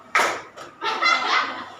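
Children clapping along in the Indonesian rhythmic game tepuk pagi siang malam in a classroom, with a sharp opening clap followed by a quick run of claps, mixed with children's voices chanting alongside.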